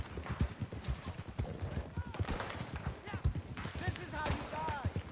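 A horse gallops in Red Dead Redemption Online with rapid rhythmic hoofbeats, mixed with scattered gunfire and a whinny, while people shout over the action.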